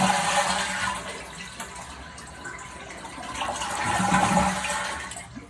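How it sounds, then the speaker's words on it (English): Water drains from a running toilet's tank while the flapper is held open, a steady rushing gurgle close by that swells again near the end. "And now we'll hold this open until all the water is drained out."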